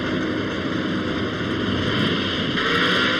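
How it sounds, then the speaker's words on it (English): A Bob Glidden pro-stock drag racing engine is held under load on a dyno, roaring at a sustained, steady high pitch near the red line, loud and continuous with no break. "Bob applies load as the engine revs to the red line."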